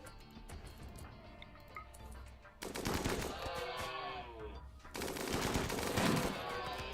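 Turrets in the video game RimWorld fire in rapid bursts of gunfire, loud and dense, over a low game ambience with occasional voice.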